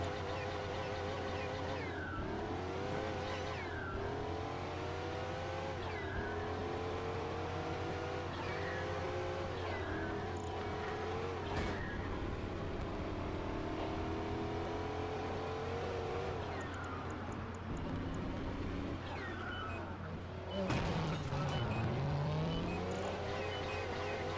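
A race car in Project Gotham Racing 4 on the Xbox 360, with a loud, continuous engine note that climbs and falls through repeated gear changes and revs over a steady hum, and a brief squeal near the end.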